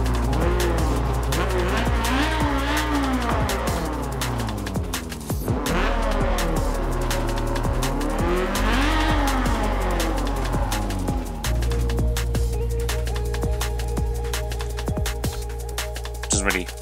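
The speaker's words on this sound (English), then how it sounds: "we've got that lovely VTEC engine which we can have a bit of a listen of" Honda Civic Type R VTEC engine in Forza Motorsport 7, revving hard in repeated rising and falling sweeps through gears with tire squeal, loud and close with no talk.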